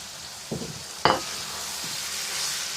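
Hara keema frying in a pan hisses steadily while a spoon stirs it, with two distinct scraping strokes close by, the second louder, and no speech.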